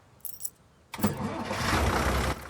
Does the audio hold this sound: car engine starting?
yes